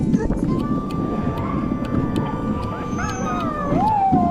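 Sled dogs on a dog-sledding outing in Alaska howl and yip together in a loud, sustained chorus with rising and falling wails, wind buffeting the microphone and a voice faintly underneath.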